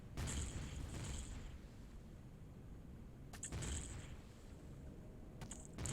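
Booming rocket launcher blasts from a tank video game, two heavy bursts around a second and three and a half seconds in, with rumbling low noise between and a third starting at the end, no talk.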